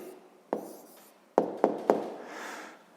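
A pen writes an answer in a notebook, with a few sharp taps and short scratchy strokes against paper, close and quiet, no talking.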